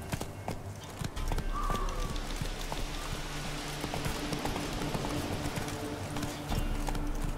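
Roach, the horse in The Witcher 3, gallops in a steady, rapid clip-clop of hooves that continues throughout, close and loud over a bed of rain-like ambient noise.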